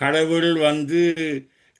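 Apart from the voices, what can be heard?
No everyday noise stands out behind the speech.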